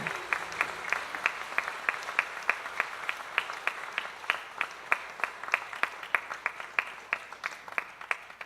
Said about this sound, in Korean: 들어갈 때 큰 박수로 격려하겠습니다.